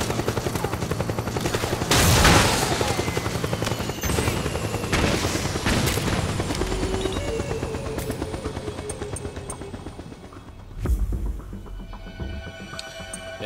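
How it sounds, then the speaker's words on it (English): A helicopter's rotor drone runs beneath heavy gunfire and machine-gun bursts in the video game Metal Gear Solid 4: Guns of the Patriots, with loud booms near the start and again later, all dense and close. "I really have to get that helicopter."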